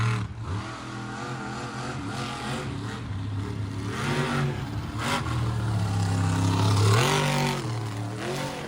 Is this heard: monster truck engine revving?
yes